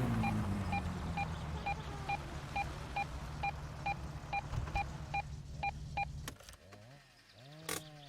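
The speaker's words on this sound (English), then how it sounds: "that beeping was getting annoying, not gonna lie." In My Summer Car, a car warning beep repeats in an even, regular rhythm for about six seconds, then stops as clunks and short mechanical noises follow.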